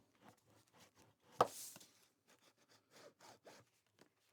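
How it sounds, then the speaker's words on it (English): Quiet, rhythmic rubbing strokes as a tool burnishes down the sealed paper pocket of a Graphic 45 Alice in Wonderland paper-craft album, with one sharper scrape among the strokes. "Now we're going to seal up the pocket right here and burnish that down."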